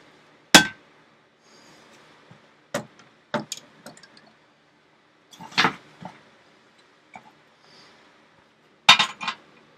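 A hammer striking hot metal on an anvil at a blacksmith forge, sharp isolated clanging blows spaced irregularly with quiet gaps, close and fairly crisp, some in quick pairs.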